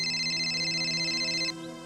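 A phone rings with a steady electronic tone held for about a second and a half, then stops abruptly, followed by a brief faint click.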